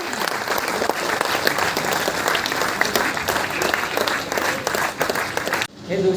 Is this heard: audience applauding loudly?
yes